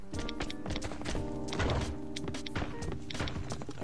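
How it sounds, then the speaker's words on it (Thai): Many players' footsteps in the survival video game Last Island of Survival, a busy overlapping patter of steps and thuds over steady game background, moderately loud and continuous. "เสียงเท้านี่คือหลายคนมากเลยนะ"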